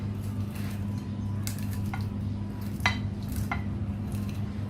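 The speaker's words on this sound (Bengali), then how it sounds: "সবগুলো মশলাকে আমি মেখে নিচ্ছি।" A mixture of spices and egg-potato filling for aloo chop is kneaded in a bowl, with soft squishing broken by a few sharp clinks of metal against the dish.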